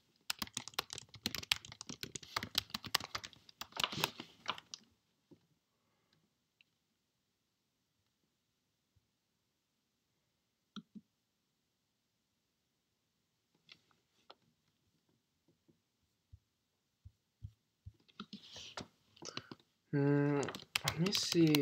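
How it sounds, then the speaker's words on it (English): Computer keyboard typing during a Python coding session, clustered in short bursts of light clicks at the start and end with quiet gaps between, and a voice briefly heard near the end. "Let me try to type this."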